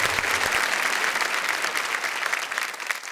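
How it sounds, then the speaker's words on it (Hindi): Loud, sustained applause from a poetry and comedy event audience, steady clapping filling the whole stretch without a break. "जोरदार तालियां"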